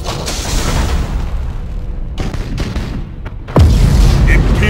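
Ships explode amid a space battle in the strategy game Battlefleet Gothic: Armada: a continuous deep rumbling roar with scattered booms, ending in one louder, heavier blast, with no talk.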